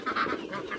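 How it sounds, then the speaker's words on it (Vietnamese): Ducks both small and large quack on a farm at midday while grain is scattered for them, several nasal calls overlapping in a quick busy chorus nearby. "Vịt nhỏ vịt to có đủ hết này."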